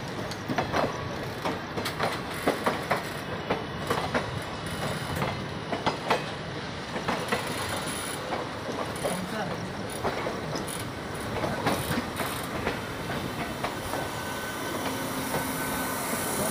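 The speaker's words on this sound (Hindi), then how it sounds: "हावड़ा से जमालपुर को जाने वाली कवि गुरु एक्सप्रेस हमारे साथ साथ चल रही है" Kavi Guru Express passenger train on the Howrah–Jamalpur route running on nearby rails: a steady rolling rumble with rhythmic clickety-clack wheel beats and faint squeals, heard from an adjacent moving train with soft background voices.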